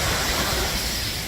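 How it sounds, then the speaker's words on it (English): A small water feature on the San Antonio River Walk splashes steadily, a close, constant hiss of falling water. "Little water feature."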